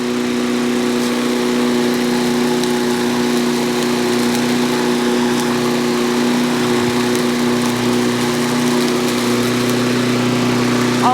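A John Deere JS63C zero-turn mower's engine runs loud and close at a steady drone with a constant pitch through a turn, with no talk over it.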